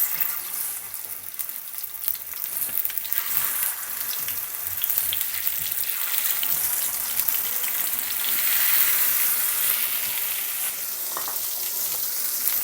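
Katla fish pieces frying in hot oil over medium heat, a dense, steady crackling sizzle that stays close and loud throughout, no talking.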